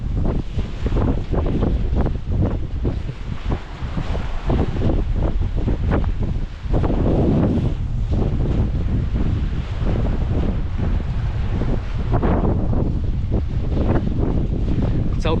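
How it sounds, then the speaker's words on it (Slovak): Strong gusts hit the microphone at the hilltop viewpoint of Phra Chudathut Palace on Ko Sichang. The loud, constant roar and buffeting runs throughout with rapid surges. "Celku to fúka"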